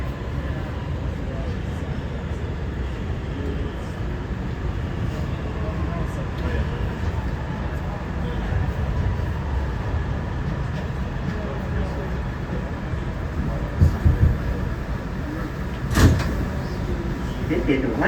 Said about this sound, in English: This is a 168th Street bound C local train.